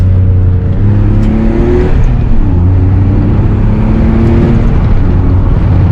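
A BMW E34 accelerates hard on a drive, its engine droning loud and close from inside, the pitch rising through the gears with brief dips at each shift, steady and unbroken.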